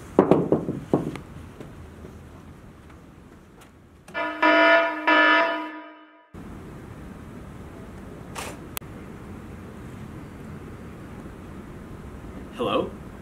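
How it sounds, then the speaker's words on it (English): A harsh, buzzing alarm blares for about two seconds amid scattered clicks and low background noise. "it's time to sound the alarm."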